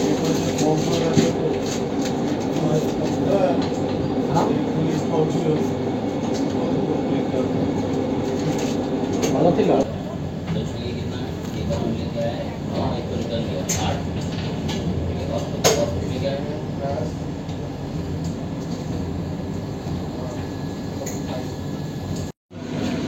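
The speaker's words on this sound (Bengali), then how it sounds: "আমাদের ট্রেন দাসনগর ক্রস করছে" A passenger train near Dasnagar heading toward Howrah, heard from inside with a steady rumble and rattle of the carriages, occasional clanks, and people talking over it.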